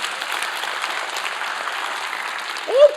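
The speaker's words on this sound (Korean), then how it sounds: "우리 하나님께 영광의 박수 드립니다" A church congregation claps together during a worship service, a dense and even round of applause that holds steady for the whole stretch.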